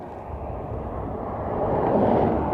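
A steady, broad roar of an airliner on close final approach at Dublin Airport on a windy morning, swelling slightly louder as it nears, with gusty rumble and no voices.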